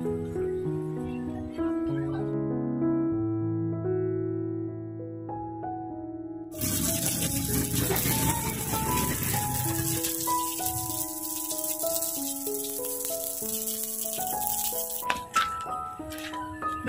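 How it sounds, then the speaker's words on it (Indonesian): A weeping-style bonsai is watered, a broad hiss of spraying water running for several seconds over background music before cutting off. "ini sudah kita siram"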